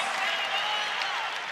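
Arena crowd at a Minnesota men's college basketball game against Oral Roberts applauds steadily for a home player after a layup, a dense wash of clapping and crowd noise with some voices mixed in, fairly distant and even throughout.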